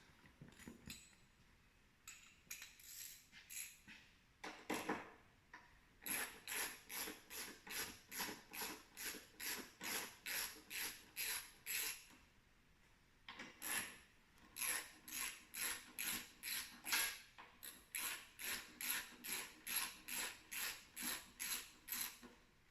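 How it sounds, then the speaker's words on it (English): A ratchet clicks in quick rhythmic bursts while loosening 10mm bolts on the fuel tank of a Suzuki Marauder motorcycle, the repeated strokes close and crisp with short pauses between runs. "So get that loosened. They're just 10mm bolts."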